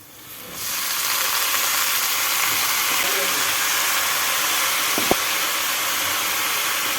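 Washed vegetables hit a hot pan and start frying, giving a sudden loud sizzle that settles into a steady broad hiss, with a brief clink of a utensil near the end.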